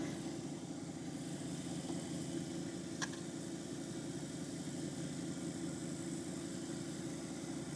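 A lapidary wheel machine runs steadily while rose quartz cabochons are shaped, giving a constant low motor hum with a faint sharp tick partway through.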